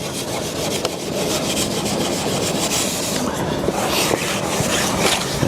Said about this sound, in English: I'll just hit a little bit with the steel wool